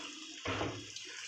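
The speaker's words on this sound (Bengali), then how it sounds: "জল দিয়ে দিলাম।" Water pours into a pot of cooking ghugni, a pea curry, in one short close splash that starts abruptly and fades over under a second, over a faint steady background hiss.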